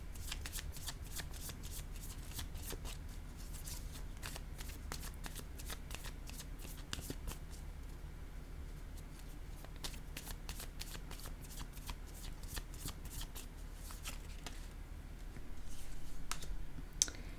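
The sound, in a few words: playing card being laid down on a board game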